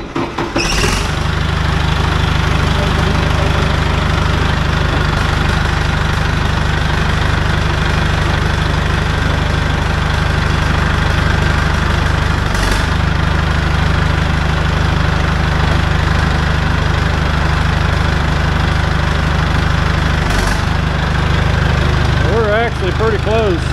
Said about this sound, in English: But I'll start the dozer and show you.